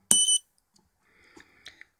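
An ESP8266 test module gives one short, loud, high-pitched beep as it switches on, followed by a few faint clicks and scratches.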